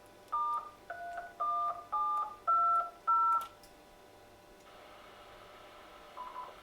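Six short DTMF keypad tones entering an amateur radio repeater node number, clean evenly spaced beeps followed by a quiet hiss and faint radio noise.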